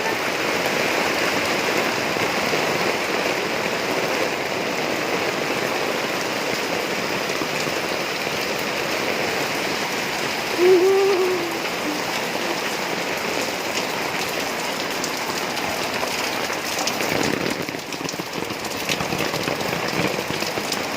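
A downpour of heavy rain drums on surfaces in a continuous, loud wash, with a brief faint tone midway and a slight dip in intensity near the end.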